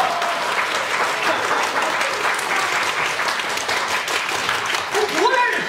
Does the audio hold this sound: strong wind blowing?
no